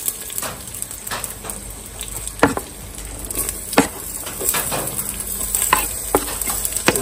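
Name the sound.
chopped onions sautéing in a pan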